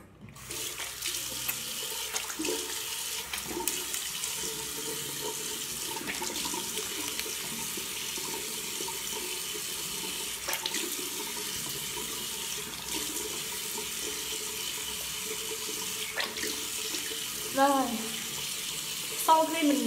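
Tap water running steadily into a bathroom sink while a face is washed after a cucumber mask, a continuous close hiss with occasional splashes and brief murmured speech near the end.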